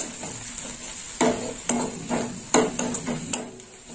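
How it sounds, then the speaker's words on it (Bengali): Red chili powder fries in white oil in a pan, a continuous gentle sizzle with a handful of spoon scrapes and clinks as it is stirred, close and clear without speech. "লাল লঙ্কার গুঁড়ো দিয়ে দিলাম। একটু কষে নেব।"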